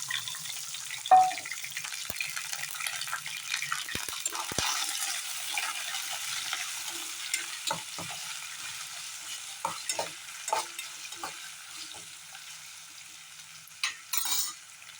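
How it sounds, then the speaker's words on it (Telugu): Chopped onions and green chillies fry in a pan while being stirred, giving a soft, steady sizzle with scattered scraping and tapping from the spatula, fairly close and moderately quiet, without any voices. "ఆనియన్స్, పచ్చిమిర్చి దీనిలో వేసి దోరగా గోల్డెన్ కలర్ వచ్చేదాకా వేయించుకోవాలి"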